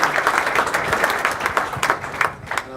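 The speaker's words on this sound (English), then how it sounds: "I would like to have a big applause for Sukanta and Silver." Steady audience applause at a tech meetup, many hands clapping together at moderate loudness and tapering slightly toward the end.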